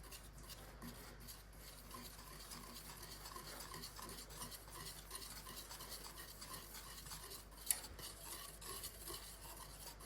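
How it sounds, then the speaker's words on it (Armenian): Warm cream is stirred into chocolate in a bowl until it melts, giving a soft continuous scraping and rubbing of a utensil, faint and close, with one brief sharp clink partway through. "վրան ավելացնում ենք գոլ սերուցքը, և խառնում ենք, մինչև շոկոլադը լավ հալի։"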